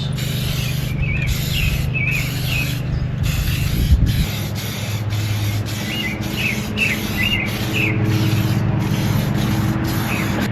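Light coats of spray paint go onto C4 Corvette parts in short, repeated hissing bursts with brief gaps between them, close by, while birds chirp in the background and a low hum runs underneath.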